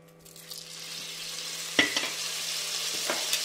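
Butter sizzles in a hot pan with olive oil, a steady hiss punctuated by a few soft clicks of a utensil, and no voices.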